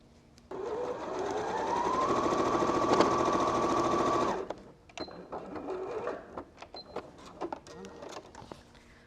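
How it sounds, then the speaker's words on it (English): An electric sewing machine stitches quilt block panels for a Christmas star block, running steadily for about four seconds with a rising then even whir, followed by a few small clicks and handling noises. "all I need to do is stitch a square panel to the end of each of these"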